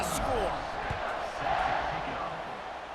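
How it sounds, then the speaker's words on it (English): A college football stadium crowd at SMU Mustangs versus Baylor Bears buzzes after a score, a steady roar of massed voices with a commentator talking over it. "this crowd is buzzing after that last score"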